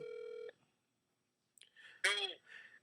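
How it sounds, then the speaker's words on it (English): A telephone dialing tone sounds briefly as a call is placed to a coach, a steady electronic tone that cuts off after half a second, followed by silence and then a voice speaking. "I'm going to call my coach, one of my assistant coaches, and see if he answers the phone."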